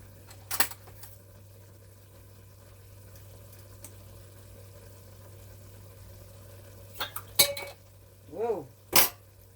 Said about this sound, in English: Definitely doesn't even want to open. Let me try a butter knife.